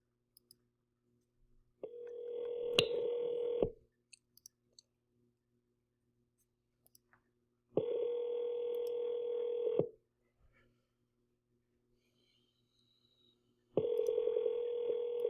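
Three bursts of steady telephone dial tone, each about two seconds long, with faint dialing clicks and beeps, separated by stretches of silence.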